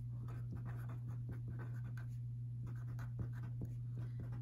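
Erin Condren pens writing smoothly on paper, soft close scratchy strokes repeating in quick bursts over a low steady hum.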